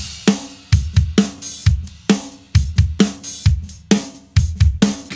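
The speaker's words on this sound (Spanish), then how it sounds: "Este es el sonido de batería que tengo." A full drum kit playing a steady groove during a mixing session, with punchy kick and snare hits and bright cymbals in a regular rhythm, loud and alone.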